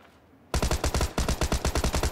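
Rapid automatic gunfire from the PUBG battle game bursts in after a brief quiet moment, a dense rhythmic string of close, loud shots with a short gap partway through.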